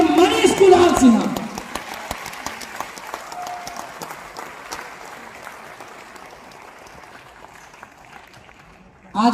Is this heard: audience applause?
yes